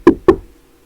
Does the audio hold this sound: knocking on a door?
yes